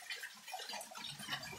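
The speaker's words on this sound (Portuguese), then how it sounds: "aqui a água gotejando da serra" Water dripping and trickling off a rocky mountain wall into a natural stone basin outdoors, heard as a steady, close, bright patter of small drops with no talk.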